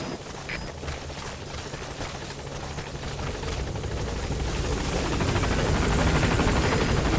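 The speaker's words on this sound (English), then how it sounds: "Just gotta wait for the helicopter and load them both on." A helicopter in the Metal Gear Solid 5 video game arrives at a landing zone, its rotor chop and engine roar steadily building and growing louder as it draws near, with no talk over it.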